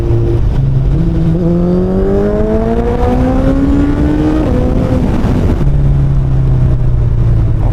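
A superbike's loud exhaust roars under throttle as the engine climbs steadily in pitch through several seconds of hard acceleration, briefly eases, then drops to a lower steady drone, close and continuous.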